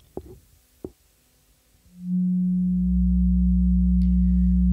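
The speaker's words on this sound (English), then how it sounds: "So now we hear the sine waves," A few soft clicks, then a loud, steady low sine tone from a resonant stereo dipole synthesizer filter swells in and holds, joined by a deeper hum and a brief high chirp near the end.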